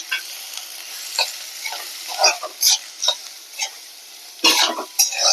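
Chopped onion sizzling in a pan with cumin while a spoon scrapes and stirs it in irregular bursts, steady close frying hiss underneath, no talking.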